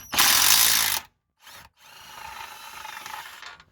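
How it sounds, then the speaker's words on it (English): A ratchet or power tool spins 17mm bolts loose on a car's lower suspension control arm clamp, on a Mitsubishi Lancer, Carisma, Colt or Space Star, in one loud one-second burst, then a short blip and a longer, quieter grinding run. "just gonna undo these two bolts to free the clamp, and these are 17mm bolts as well"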